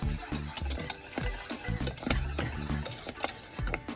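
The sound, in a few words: whisking cornstarch mixture in a pot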